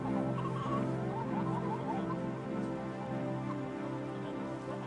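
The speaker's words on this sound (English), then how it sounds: "There are lots of birds on farms too, such as turkeys, ducks and chickens." Farm chickens cluck continuously, several birds overlapping in busy, chattering calls that carry on steadily from fairly close by.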